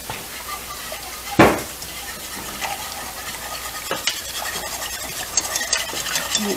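A spoon stirs spinach and chicken enchilada filling as it cooks in a pan, giving a steady low sizzle with scraping strokes, including one sharp clatter early on.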